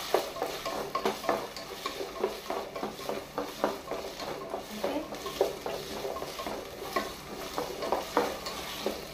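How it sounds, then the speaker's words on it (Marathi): Potatoes, carrots and other vegetables for a Goan mixed veg curry sizzle steadily in a pan, with frequent scraping and clinking stirs of a spoon against the metal throughout and no voices. "सगळी भाजी आमकां फ्राय करून घेवपाक जाय."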